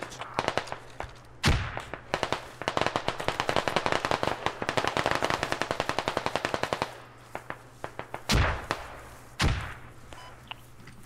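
Rapid automatic gunfire in the video game Squad, aimed at an enemy rally point: a long run of fast, sharp shots with a few heavier single bangs before and after, loud and close.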